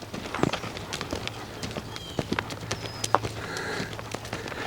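A filly runs while preparing for her first ride, her hooves drumming in a steady, rhythmic clip-clop on the ground at moderate distance, with faint background noise throughout.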